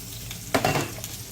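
Garlic fries in a pan in a brief close-up moment, with a quiet sizzle that rises into a short burst of hissing and a light scrape, and no voices.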